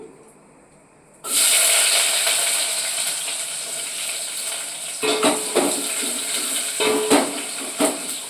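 Onions and green chillies drop into hot oil with tempering for sambar, a loud hissing sizzle that bursts in suddenly and keeps going, with light scraping stirs of a spoon in the pan later on.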